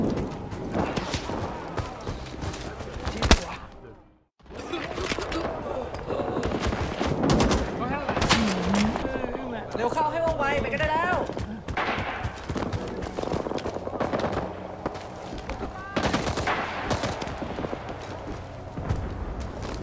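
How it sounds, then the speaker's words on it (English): Rising Storm 2: Vietnam combat rattles with dense, near-continuous machine gun bursts and scattered rifle shots, loud and close, with a brief silent gap early on and occasional voices mixed into the gunfire. "Lay down some fire while I reload!"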